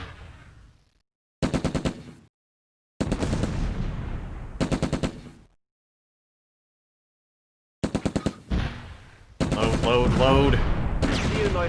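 Bursts of rapid automatic gunfire crackle from Close Combat: A Bridge Too Far, loud and close, separated by silent gaps, ending in a longer sustained volley.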